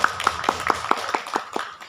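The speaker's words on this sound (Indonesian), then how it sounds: "Tepuk tangan." A small group in a training session claps in a short, even, rhythmic burst of about eight claps that slows and fades within two seconds.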